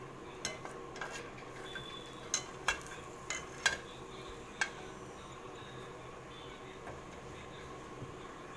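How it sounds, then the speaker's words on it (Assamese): Jackfruit seeds frying slowly over low heat in a pan, a soft steady sizzle punctuated by several sharp scrapes and clinks as a spatula stirs them, quiet and close. "এনেদৰে 15-20 মিনিটমান ভাজিব লাগিব।"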